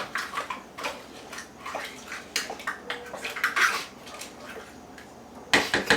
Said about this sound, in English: Listen to the sound of that mixing.